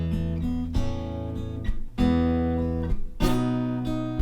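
Strummed acoustic guitar chords from a song ring out one after another, with a fresh strum roughly every second and each chord left to sustain clearly before the next change, with no talking.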